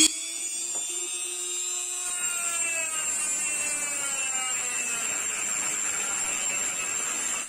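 An angle grinder with an old cutting disc spins up to a high whine and then bites into a piece of metal, giving a steady, loud, close grinding screech that holds for several seconds.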